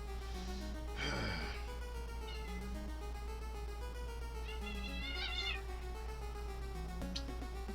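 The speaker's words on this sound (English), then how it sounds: "I must apologize for my cats in the background." Several pet cats meow repeatedly in the background at moderate volume, with drawn-out, rising and falling cries spaced across the span over a steady low hum.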